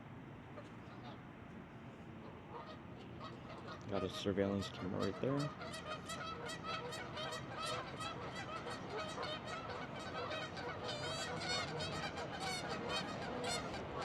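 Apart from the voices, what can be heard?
geese honking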